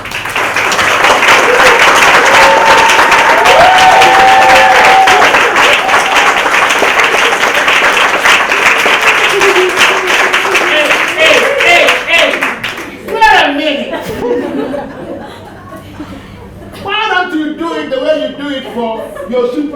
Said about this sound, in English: he deserves a very real, sound, and very, very enthusiastic round of applause